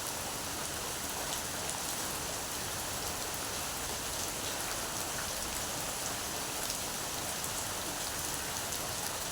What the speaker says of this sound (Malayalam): ചായയും നല്ല മഴയും അടിപൊളി കോമ്പിനേഷൻ ആട്ടോ